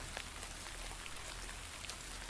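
Steady rain in a video game, an even, dense patter of drops on a surface, continuous and fairly quiet with no voices.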